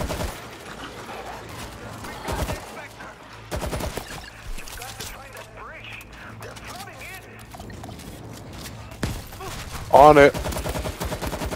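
Gunfire in the zombie shooter World War Z, bursts of shots scattered through the clip with one loud close volley near the end, mixed with game effects while players talk over it.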